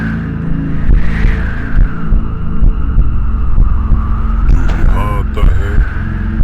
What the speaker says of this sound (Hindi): दिल बहुत तेज धड़कने लगा।